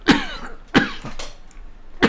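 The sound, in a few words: cough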